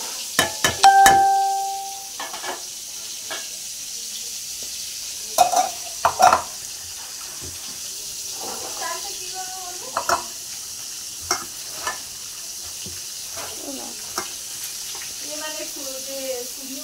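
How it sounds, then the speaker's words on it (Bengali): Potato pieces fry in a pan with a soft sizzle and occasional stirring scrapes, plus sharp clanks near the start and in the middle, while a voice speaks intermittently over the cooking. "তো দেখো এখানে আলুটা ভাজতে দিয়েছি"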